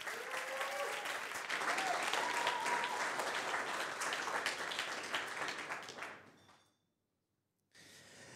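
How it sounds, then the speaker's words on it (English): Audience applause at a startup demo day livestream: dense, steady clapping from a sizeable crowd for about six seconds, then a fade into silence before a short burst of noise returns. "Please, a big round of applause"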